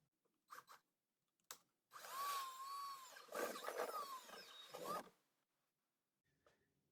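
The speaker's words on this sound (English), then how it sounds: "I'm just going to use a stepper bit" A power drill with a step bit whirs through a hole in two bursts of a few seconds each, with short clicks and pauses before and after.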